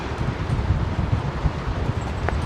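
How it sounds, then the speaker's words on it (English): Wind blowing outdoors at London Heathrow Airport on New Year, a steady rough rumble buffeting close against the microphone with no pauses. "the wind that you can hear"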